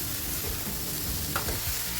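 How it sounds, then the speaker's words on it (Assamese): Finely chopped ash gourd with raw green chilli is stirred and tossed in a hot oiled pan, a soft continuous sizzle broken by scraping stirs, close and alone. "এতিয়া কোমোৰাখিনি লুটিয়াই পুটিয়াই চাৰিওফালে ভালদৰে লাৰি দিছোঁ।"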